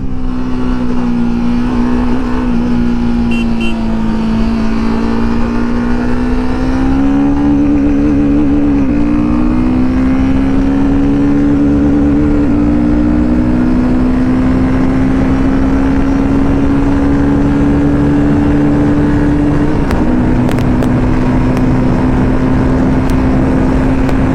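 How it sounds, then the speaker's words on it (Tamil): A Royal Enfield Himalayan 450 motorcycle accelerates hard toward top speed, its engine drone loud, steady and rising slowly in pitch through a long run, with a few brief dips that sound like gear changes and heavy wind noise throughout. "நான் இந்த வண்டியில் டாப் ஸ்பீட் போடுறேன்னு தான் சொல்லியிருக்கேன்"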